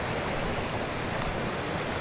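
A creek running full after recent rain sends up a steady, close rush of water, a dense even hiss with no pauses and no voices.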